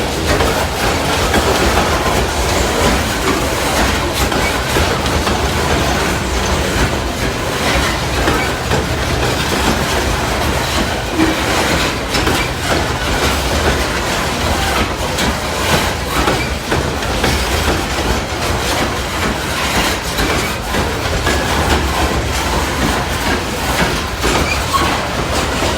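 Freight train with coal and manifest cars rolling past at close range, a loud continuous rumble with rhythmic wheel clatter on the rails and faint squeal, steady for the whole stretch, no voices.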